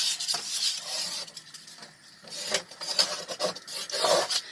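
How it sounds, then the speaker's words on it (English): A paper fold is burnished with firm rubbing strokes, a close, raspy scraping that comes in repeated bursts with short gaps, no talking. "Fold it down, hold it in place, burnish, and burnish."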